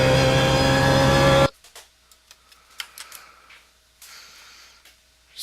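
A race car in the iRacing video game at Sebring gives a loud, steady engine drone that cuts off abruptly, then leaves faint, scattered keyboard-like clicks in near silence.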